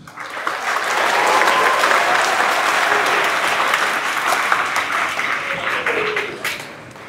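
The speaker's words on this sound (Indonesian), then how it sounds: "Tepuk tangan." Audience applause at a flag ceremony and MATSAMA 2025 opening at MAN 13 Jakarta Selatan, a madrasah in Jakarta; dense, sustained clapping from a large crowd that swells quickly, holds steady, then tapers off.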